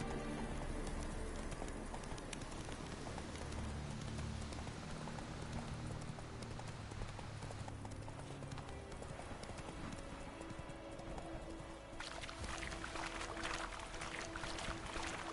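Roach, the horse in The Witcher 3, gallops in a steady rapid clip-clop of hooves that runs continuously under a dense, loud game soundscape of ambient noise.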